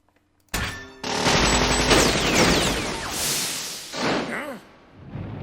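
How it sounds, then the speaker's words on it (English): A 30 caliber Gatling gun fires in anime combat, a sudden loud burst of rapid gunfire followed by whooshing, ricochet-like streaks and a second surge of shots. "he's using a 30 caliber Gatling gun"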